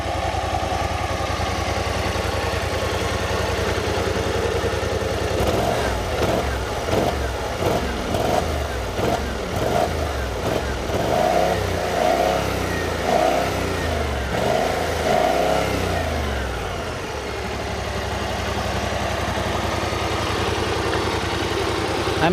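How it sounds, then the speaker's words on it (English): A BMW C600 Sport scooter with a twin-cylinder engine runs loud and close, idling and then revving up and down repeatedly before settling back to a steady idle. "This bike sounds very much like the Kawasaki Versys 650, probably because of a twin cylinder."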